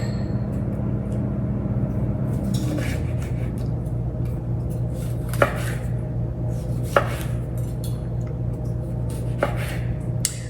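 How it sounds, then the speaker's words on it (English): A knife cuts a whole lemon into about eight pieces on a board, giving a few distinct, sharp chops spaced a second or two apart over a low steady background hum, close and clear with no talking. "then we're going to slice our lemon into about 8 pieces"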